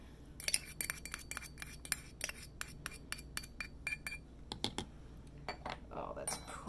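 Shamrock green soap batter being stirred, with a utensil clinking and tapping against a container in quick, irregular strikes that soften into a gentle scraping near the end, close and fairly quiet.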